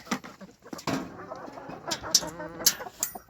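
Bearded hens cluck close by in a wet yard after rain, giving short soft calls and a few sharper squawks over a brief stretch.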